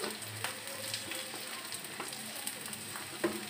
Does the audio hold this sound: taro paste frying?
yes